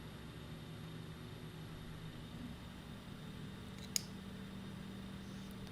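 Avro RJ jet engines in a flight simulator give a steady, loud broadband roar with a low hum beneath. A single sharp click cuts through near the middle, and no one speaks.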